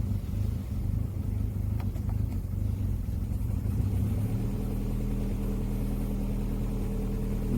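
A car engine with an LPG gas system runs at a steady idle after repair, a low continuous rumble close by that deepens slightly partway through, with no talking.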